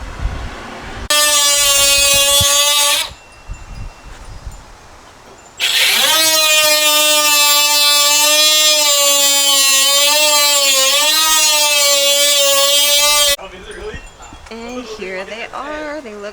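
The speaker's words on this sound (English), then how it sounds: "they're currently drilling into my hood right now to put the vents in." A power drill bores into the hood of a 2013 Subaru WRX STI to fit vents, giving two loud sustained whining runs, a short one and a longer wavering one, with quieter shop noise between them.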